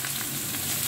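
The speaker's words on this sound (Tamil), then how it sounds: "பச்சை மிளகா வதங்கிறதுக்கு முட்டைக்கோஸ் போடுறேன்." Shredded cabbage sautéing with green chilies in an open pan for a Tamil cabbage coconut stir-fry, a steady close sizzle and frying crackle with no voices.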